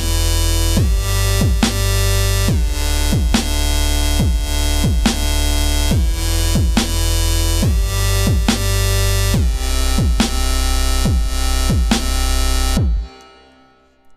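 Heavy dubstep bass synth patch built in Reason, playing a loud, steady rhythmic pattern of wobbling bass notes with sharp repeated hits for about thirteen seconds before cutting to near silence.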